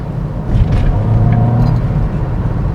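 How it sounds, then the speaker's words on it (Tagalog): A 2024 Toyota Vios engine revs up close inside the car, a loud, deep, steady rumble that swells after the first half second and holds at high RPM, with faint clicks and rattles on top. "so maganda tunog ng RPM niya"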